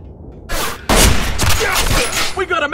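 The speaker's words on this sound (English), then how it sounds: "Sniper attack!" Sniper gunfire in the video game Arctic Combat, with an M24 rifle: a burst of sharp, loud shots crack close by, followed by rolling echoes and clattering reports, with voices mixed in.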